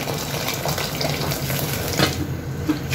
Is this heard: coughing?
no